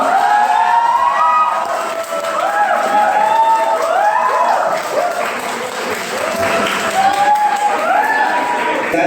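An audience at a school inter-section debate contest claps loudly and steadily, with rising whoops and shouted cheers weaving through the applause for the whole stretch.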